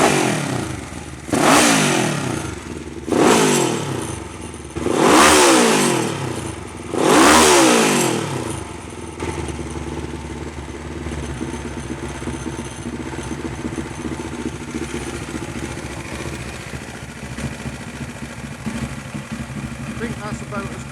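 A Honda CB500T racing motorcycle engine, tuned above factory output, blips through four sharp revs in quick succession, then settles into a steady, slightly lumpy idle close by.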